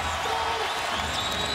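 A basketball arena crowd at an NBA Oklahoma City Thunder at Miami Heat game rises in a brief, dense wash of cheering and applause, loud and continuous throughout.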